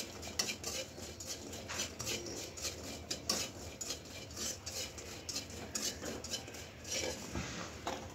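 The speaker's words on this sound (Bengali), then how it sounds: "তো মাছটা লাল লাল করে ভেজে এবার কয়েকটা বড়িও ভেজে নিচ্ছি।" Lentil dumplings (bori) frying in a wok after fish, heard mostly as repeated metal scraping and clinking of a spatula stirring, with a faint sizzle underneath, close and fairly quiet.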